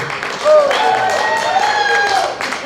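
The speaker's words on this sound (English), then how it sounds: "Nice round of applause for Uncle Manly Bush and also Home Wonder back there." A round of applause for Uncle Manly Bush at a Hawaiian family music performance, crowd clapping and cheering mixed with a prominent voice and ringing tones.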